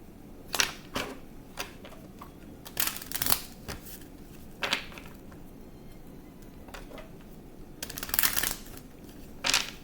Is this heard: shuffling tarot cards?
yes